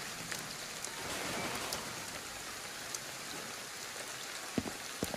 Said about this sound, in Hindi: बहुत बारिश हो रही